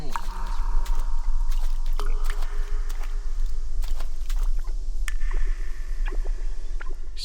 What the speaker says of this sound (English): the water makes a little too much noise